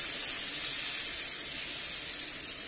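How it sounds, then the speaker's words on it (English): Fish and wine sizzle loudly in a hot frying pan, a continuous bright hiss that stays steady and close the whole time. "Listen to that sizzle."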